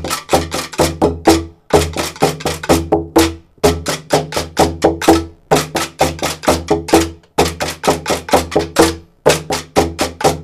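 Rapid drumming on recycled materials such as pots and pans: busy, clattering phrases of sharp metallic and hollow hits, grouped in bursts with brief gaps between them, loud and close, with no talking.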